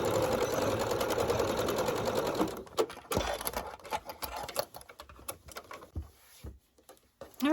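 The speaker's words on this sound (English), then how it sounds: "we're just going to start sewing" A sewing machine stitches a scrappy fabric pouch made from stash fabric, running in a steady fast whirr for a couple of seconds, then breaking into shorter start-stop bursts and clicks, close and fairly quiet with no talking.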